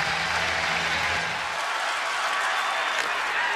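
A large baseball stadium crowd cheers and applauds in a dense, continuous roar that fills the whole stretch, with a low hum fading out early on.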